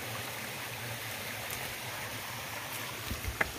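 A river flowing beside the Appalachian Trail near Monson, Maine, makes a steady, soft rush of running water throughout, with a small splash near the end.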